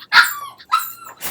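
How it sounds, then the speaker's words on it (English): Several sharp barks from a puppy, coming in bursts with short gaps, fairly loud and close, with no talking over them. "Ugh, that's my dog."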